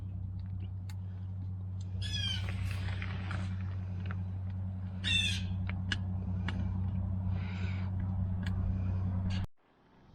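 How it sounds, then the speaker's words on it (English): Bird calling outdoors at a campsite, several short raspy crow-like calls heard at a distance over a steady engine-like hum, which cuts off near the end. "Yeah, I hear you, bird."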